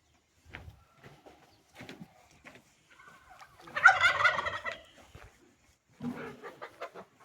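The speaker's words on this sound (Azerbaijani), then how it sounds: "toyuq cücə saxlamaq üçün belə bir yerimiz var." Poultry in a village chicken coop at a house in Shorelli, Barda district, Azerbaijan, with faint clucks and one louder burst of gobbling fowl calls among quiet scattered noises.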